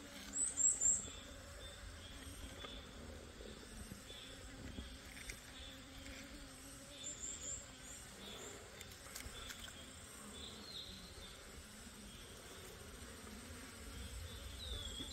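Native honeybees at a mountain beehive give a faint continuous buzz for the whole stretch, with a few louder passes of bees flying close by.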